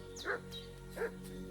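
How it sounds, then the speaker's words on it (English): A dog barking in the medieval video game Kingdom Come: Deliverance II: two short, fairly faint barks a little apart, with a slight whine, over a steady droning background. "What's that dog making such a fuss about?"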